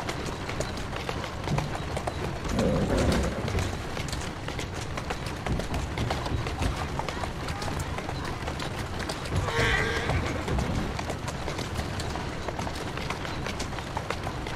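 A horse in Assassin's Creed Syndicate gallops with rapid hoofbeats, giving a couple of whinnies along the way, moderately loud and without speech.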